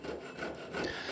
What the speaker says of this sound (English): here's the crosscut saw in action